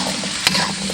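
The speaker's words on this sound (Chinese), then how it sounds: "再这样把南瓜炒了2分钟左右" Pumpkin stir-fried in a pan with dried shiitake mushrooms and a splash of cooking wine, a close, continuous sizzle with a sharp scrape of the spatula midway through the brief moment.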